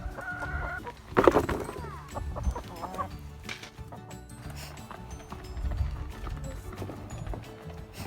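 Backyard chickens cluck and call close by in a busy, irregular stream, with a louder burst of clucking early on and scattered scratching and shuffling throughout.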